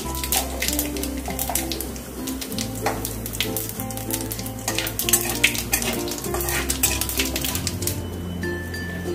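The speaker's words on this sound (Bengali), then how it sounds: "সাদা জিরে একটু ফোড়ন দিলাম" White cumin seeds tempering in hot oil with a cinnamon stick, cloves and cardamom, giving a steady close sizzle with light crackles over soft background music, no voices.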